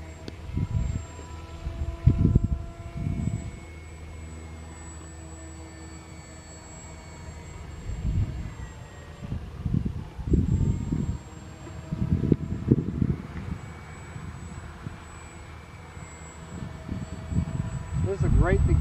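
Hobby King AXN Floater RC jet flying outdoors on its maiden flight, its motor whine faint and distant beneath repeated gusts of wind buffeting the microphone, with someone talking at times.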